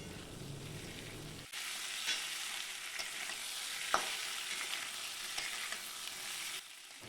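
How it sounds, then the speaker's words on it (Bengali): Potatoes, papaya and chickpeas fry in a pan, hissing in a steady sizzle with occasional scraping stir clicks, close and moderate in level after a quieter start, with no voices. "ছোলাগুলোকে দিয়েও আবার কিছুক্ষণ নাড়াচাড়া করবো"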